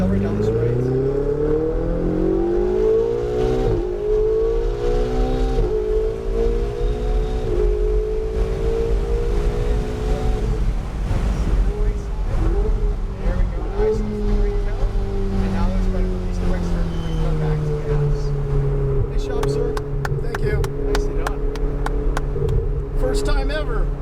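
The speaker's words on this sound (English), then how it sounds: "go ahead and accelerate down this right." A turbocharged car accelerates hard down a straight, its engine note climbing in repeated sweeps as it pulls through the gears, loud and steady for the whole stretch.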